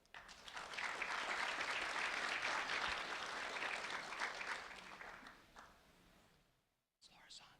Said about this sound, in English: A round of applause for them both.